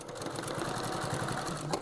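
A sewing machine runs continuously at a steady pace while stitching the corner of a fabric sewing machine cover, a close, even mechanical chatter with a faint rhythmic thump underneath.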